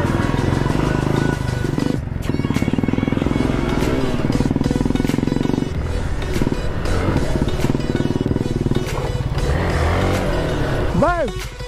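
A Hero Xpulse 200 4V motorcycle roars close by while accelerating on an off-road trail. The loud, rising engine sound continues without a break and is mixed with wind rush and shouting riders.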